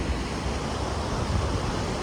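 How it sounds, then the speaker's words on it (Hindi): A mountain waterfall in Himachal pouring downhill, a loud, steady broadband rush of falling water with deep rumble, continuous and close, no voices. "क्या खूबसूरत झरना है ये, नीचे की तरफ जा रहा है ये पानी।"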